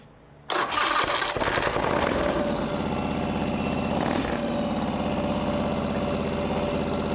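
A motorcycle engine in a custom bike-build shop cranks and catches after a brief quiet moment, then settles into a loud, steady, burbling idle as it warms up, with no talk.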